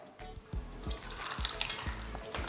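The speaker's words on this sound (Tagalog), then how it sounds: "Isasala ko lang to." Sauce liquid is poured through a strainer, splashing and trickling with uneven bursts and soft clinks close by.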